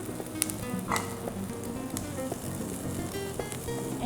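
Freshly chopped onions sautéing in a hot pan, a close, continuous crackling sizzle with small pops throughout and no voices.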